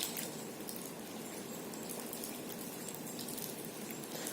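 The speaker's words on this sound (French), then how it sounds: "Et il pleut. Il ne fait que de pleuvoir." Steady rain falls on a November afternoon, a dense, even hiss of drops that stays faint and continuous throughout, with no voices.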